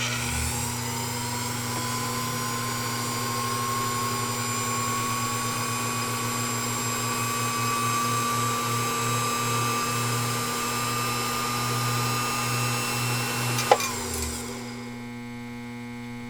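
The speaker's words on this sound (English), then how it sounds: "first thing I want to do is just let you listen to this motor." A fully restored PFAFF 229 sewing machine's motor runs with the clutch disengaged, a steady, even electric hum and whine that holds for a long stretch before a small click and the motor spinning down.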